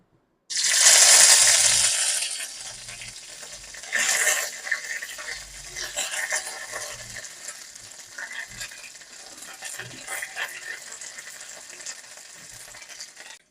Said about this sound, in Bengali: ফোড়নটাকে আমি কয়েক সেকেন্ড নাড়াচাড়া করে নেব